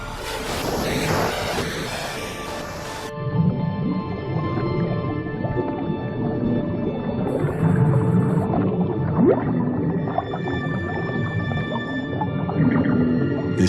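Dwarf minke whale calling underwater on a reef, strange buzzing and droning tones with faint higher squeaks over a constant rumble of water, fairly loud and close, no speech.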